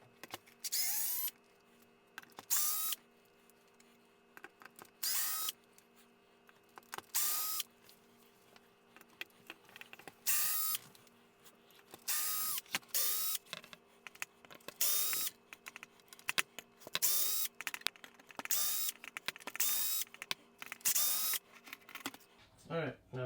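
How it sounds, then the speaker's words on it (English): A power drill fitted with a 2.5mm bit backs screws out of an RC truck chassis in short, whirring bursts separated by pauses, close by, with someone speaking between them. "I'm going to get the bit for the drill."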